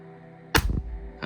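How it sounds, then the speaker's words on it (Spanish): A single sharp, close gunshot crack from a replica Smith & Wesson MP9 airsoft submachine gun, followed by a short mechanical rattle and a second faint click. "Vamos a hacer un disparo."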